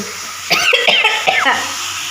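Sneezes and coughs from a person irritated by spices while chicken is being cooked in a home kitchen, a short cluster of sharp bursts close by over steady kitchen noise.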